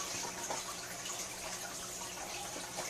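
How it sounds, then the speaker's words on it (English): Warm water pours steadily onto shredded newspaper being wetted for a worm bin made from a Rubbermaid container, a continuous close splashing gush with no speech. "you want to use some warm water again, and you want to wet that"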